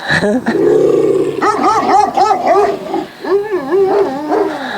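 A dog makes close, continuous vocal noises, rumbling growls rising into whiny, yowling tones, with no one speaking.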